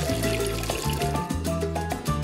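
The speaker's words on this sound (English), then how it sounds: "pour water into an empty trash bag" Water pours into an empty plastic trash bag in a steady, continuous stream lasting a couple of seconds, with a shifting, somewhat tonal gurgle and no voices.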